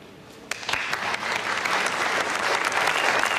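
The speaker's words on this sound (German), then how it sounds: "Bitte begrüßen Sie mit einem großen Applaus die Teilnehmerinnen" Applause breaks out to welcome the contestants of a local beauty pageant, a crowd clapping loudly and steadily, swelling from a lighter start into a dense, sustained ovation.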